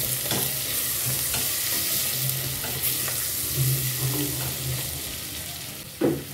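Turmeric and curry powder being stirred into a frying pot while cooking jollof rice: continuous close sizzle with scraping strokes of a spoon at irregular intervals and a louder clank near the end, no speech.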